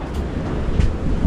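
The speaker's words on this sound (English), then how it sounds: "Place is kind of windy today." Wind blows hard against the microphone outdoors in Jamaica, a loud, rumbling, buffeting roar with gusty low thumps and no talking.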